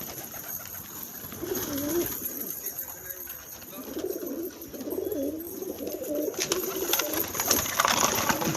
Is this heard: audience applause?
no